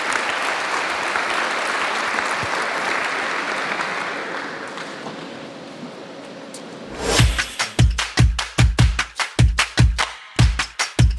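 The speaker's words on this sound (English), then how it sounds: "Can I have a round of applause for Wright, Francesca, and Kevin, please?" A conference panel audience at a Bitcoin event gives a round of applause. A diffuse crowd wash fades, then loud, uneven bursts of clapping sound close by.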